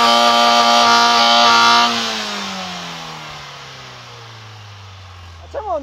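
A damaged Ford car engine with a loose nut rattling inside is revved hard and held high, then drops away as the revs wind down slowly to a low idle, with a brief voice at the end.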